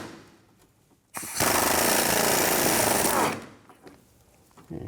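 Power tool, likely an impact wrench, removing the nut from a rear sway bar link on a 2007–2012 Nissan Altima; one steady loud burst of about two seconds, with quiet before and after.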